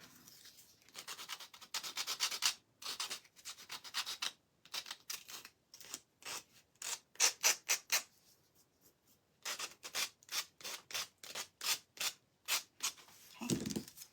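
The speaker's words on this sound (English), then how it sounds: "These are such thin little popsicle sticks. You can file them." Thin wooden popsicle sticks being filed smooth for a craft project, close rhythmic rasping strokes in quick bursts with short pauses between sets.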